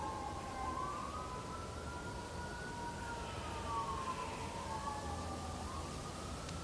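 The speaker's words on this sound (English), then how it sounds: "as we hear those sirens in the distance" Emergency vehicle sirens wailing in the distance, several rising and falling tones overlapping, faint and steady over a constant background hiss with no voices.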